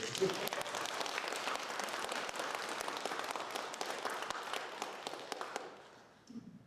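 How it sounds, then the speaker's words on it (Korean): Congregation at a Catholic charismatic prayer meeting in Jeju giving welcoming applause, sustained clapping with sharp individual claps that thins and dies away near the end, soft voices underneath. "다시 한번 환영의 박수."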